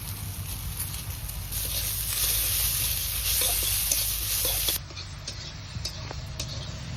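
Leafy greens frying in a pan with salt and turmeric, giving a steady close sizzle with light stirring scrapes that drops to a quieter sizzle near the end. No one speaks.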